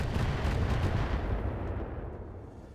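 Missile fire from a mech in BattleTech: a dense, rumbling burst of launches and impacts that gradually tapers off over a few seconds.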